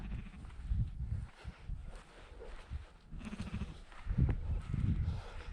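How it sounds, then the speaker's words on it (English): Female sheep bleating on an open hillside walk in Cave Dale, Peak District, several calls rising from a steady outdoor background, fairly close and moderately loud. "There's no rams, so these are all female sheep, I suppose"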